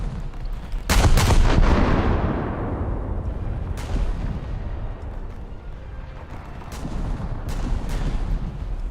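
Cruiser Shcherbakov's turrets fire shells in a naval video game: one heavy booming salvo rolls out into a long rumbling decay, followed by several sharper distant reports over a continuous low background.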